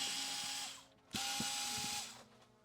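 A small screw is driven out during a teardown of a JBL Tuner 2 radio speaker, with a steady close whirring buzz from a small electric driver in two runs separated by a brief gap.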